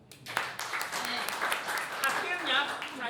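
A small group of elderly worshippers at a prayer fellowship breaks into applause, a brief scattered clapping over murmuring voices and chatter in the room.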